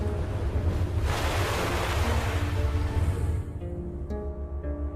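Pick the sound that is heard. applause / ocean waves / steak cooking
ocean waves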